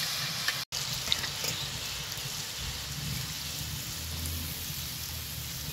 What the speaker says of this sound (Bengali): এইভাবে একইভাবে সবকটা ভেজে নিব